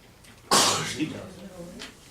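A single sharp sneeze bursts out close and loud, trailing off into quiet room tone with faint breathing afterward.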